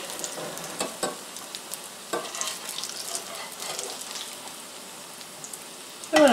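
Butternut squash fritters sizzle and crackle softly in a frying pan, a steady low hiss with scattered pops, fairly quiet and close, with no talking.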